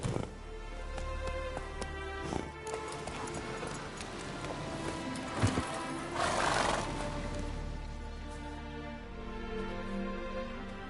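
Roach, the horse in The Witcher video game, trots with steady clip-clop hoofbeats and gives a loud whinny midway, close and clear without talk.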